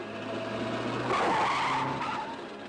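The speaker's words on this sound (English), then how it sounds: "That's an awful stop, Willie Wood." A car in a 1962 comedy film stops abruptly, its tyres skidding and squealing loudly and close by for about two seconds over engine noise, with no talking.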